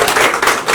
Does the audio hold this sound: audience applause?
yes